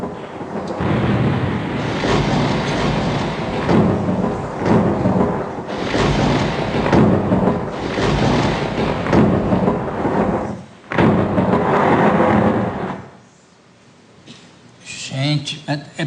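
Thunder from lightning strikes over Brazil plays loud and broadband, with long rolling rumbles that swell and break off, alongside rain-like hiss, and the noise drops away near the end; a voice can be heard under it.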